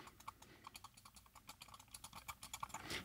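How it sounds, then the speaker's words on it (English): Wireless gaming mouse buttons clicked left and right close to a microphone, a quick series of very faint, sharp clicks in an irregular rhythm with no talking. "So here's me clicking left and right."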